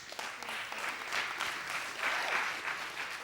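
A church congregation claps together in steady, sustained applause that fills the hall.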